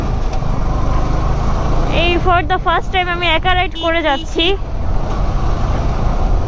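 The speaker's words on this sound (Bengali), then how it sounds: "পুরো রাস্তা জ্যাম।" Steady broadband rumble of a jammed road, with idling cars, buses and trucks crawling in heavy traffic, runs throughout while someone talks over it.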